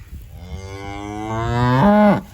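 A cow (a mother of a calf, in a barn) gives one long, close, loud moo that rises and swells toward the end, heard alone with no talk.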